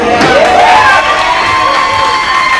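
A loud crowd at a wrestling event cheers and shouts for a wrestler, with high whoops and screams rising together and then holding steady.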